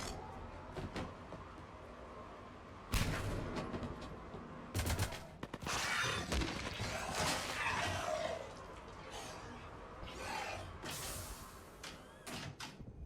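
Gunfire in the video game Mass Effect 3: loud bursts of shots and impacts break out around 3 s and again from 5 to 8 s, with scattered sharp cracks later over a steady rumbling background.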